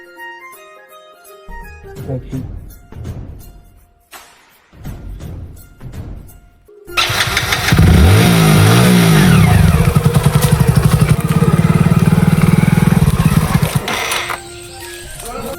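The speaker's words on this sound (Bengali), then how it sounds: "লাস্ট বারের মতো ট্রাই করে দেখি যদি বাইকটা স্টার্ট হয়ে যায়" A stalled motorcycle on a road is kicked or cranked several times in short sputtering bursts before it catches. Its engine then runs loud and close, revving hard for several seconds before settling down.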